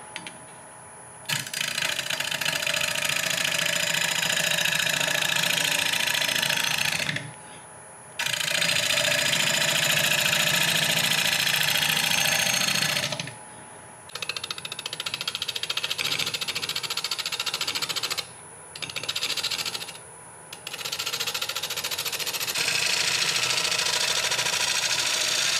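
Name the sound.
wood lathe running at 850 RPM turning a bowl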